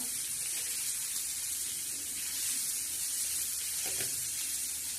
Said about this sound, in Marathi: लाल तिखट टाकलेला आहे आणि हळद टाकलेली हे अशी चांगली परतून घ्या